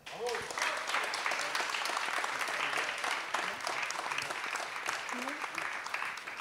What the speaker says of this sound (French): Voilà, on peut encore les applaudir.